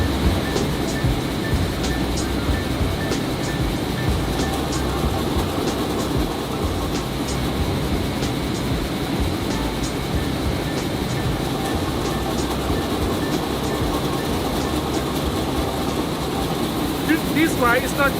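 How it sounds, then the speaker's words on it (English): A rice sorting machine runs steadily while separating paddy rice from finished grain, giving off a continuous loud mechanical rumble and rattle with faint periodic clicks throughout. "This machine, they will separate the good and the bad."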